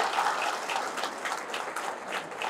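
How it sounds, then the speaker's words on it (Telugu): A crowd at a political rally claps loudly and continuously in a dense burst of applause that lasts a few seconds. "గట్టిగా చప్పట్లు కొట్టుకోండి"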